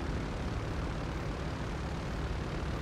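Helicopter engine in GTA 5, heard as a loud, steady, dense roar with no clear rhythm and no talking.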